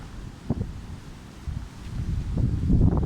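Strong gusty wind in bare winter woods buffets the microphone with low rumbling surges and faint rustling, swelling louder toward the end.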